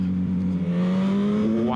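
A 2016 Suzuki GSX-S 1000 motorcycle engine pulls steadily under acceleration, a loud close drone whose pitch climbs smoothly across the clip with wind rush around it.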